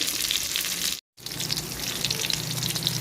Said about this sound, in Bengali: আমি আস্তে আস্তে করে এটা ভেজে নিচ্ছি